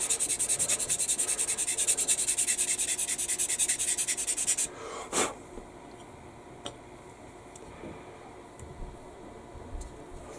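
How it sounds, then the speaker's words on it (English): Rapid rhythmic scraping as sandpaper rubs a plastic 1/72 scale Airfix B-17G model fuselage, close and brisk for several seconds, then stopping, followed by a few faint ticks and handling clicks in a quiet room. "Because this isn't going to be seen, so I can sand away at it."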